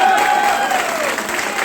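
Brief applause from a business-meeting crowd in Kaziranga, a short dense patter of clapping with a faint crowd murmur and a thin tonal whine near the start.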